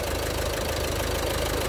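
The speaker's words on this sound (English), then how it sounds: "let me run the engine." A car engine idling close by, a loud, steady low rumble with an even rhythmic pulse and nothing else over it.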